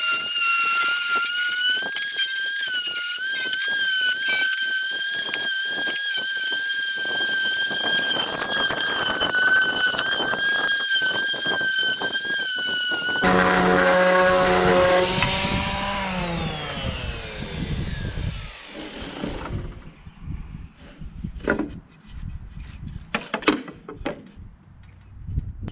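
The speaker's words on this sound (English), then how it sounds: "Let me get a sander and do that." A power sander works on wooden crown molding cut on a table saw, a loud sustained whine with shifting pitch for about thirteen seconds, then lower machine rumble and scattered knocks and handling sounds as it winds down.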